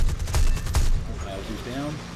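Aircraft machine gun fire in War Thunder, several loud bursts of rapid gunfire in the first second, then fading into engine drone with a faint tonal whine.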